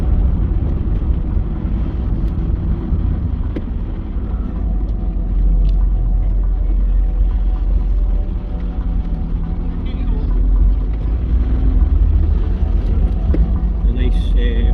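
A mk2 Vauxhall Cavalier cruises past a classic car show on a street, its engine and road noise forming a constant low rumble with some wind buffeting, while someone talks over it.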